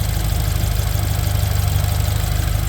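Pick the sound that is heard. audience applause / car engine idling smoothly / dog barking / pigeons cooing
car engine idling smoothly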